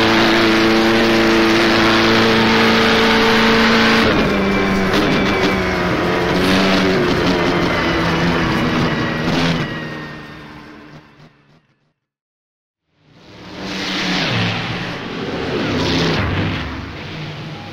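Vintage 1937 pre-war Grand Prix race car engines in the rFactor racing game at the Tripoli circuit, a loud, harsh droning roar that fades to near silence for about a second, then swells back up.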